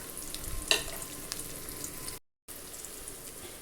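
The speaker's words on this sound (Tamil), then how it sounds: "வெங்காயம் பொன்னிறம் வர அளவுக்கு வதக்கி எடுத்துக்குவோம்." Sliced onions and black gram sautéing in a pan for thoothuvalai thuvaiyal, a soft sizzle with a few light stirring clicks. The sound is faint and close and drops out briefly partway through.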